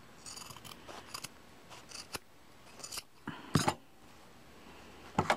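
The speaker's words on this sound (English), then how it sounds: "Then we're going to trim our seam." Scissors trim a fabric seam in quiet, close snips, scattered irregularly with a few sharper, louder cuts and short pauses between them.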